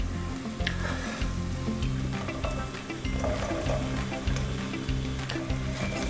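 Soya chunks frying in masala in a hot pan, giving a loud, close, steady sizzle and crackle with occasional stirring scrapes and no speech.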